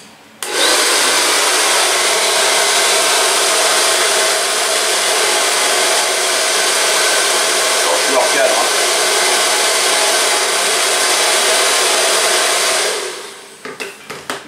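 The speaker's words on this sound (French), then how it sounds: "là je vais mettre le séchoir, ça va faire du bruit" A hair dryer blows with a loud, steady whooshing roar for several seconds, then switches off, followed by a few faint clicks.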